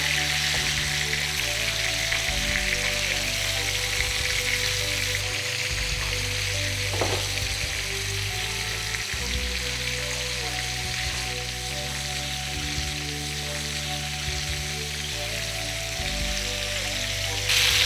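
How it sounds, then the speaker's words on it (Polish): Continuous loud sizzling and crackling of browned pork and venison frying in hot fat, steady throughout with no talking. "i niech się nam smaży."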